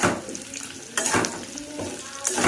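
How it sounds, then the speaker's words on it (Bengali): Raw mango pieces for pickle fry in hot oil with panch phoron, giving a steady close sizzle broken by a few sharp bursts of stirring and spatter. "এবার এগুলো একটু ভাজা ভাজা করে দিয়ে হালকা একটু ভাজতে হবে।"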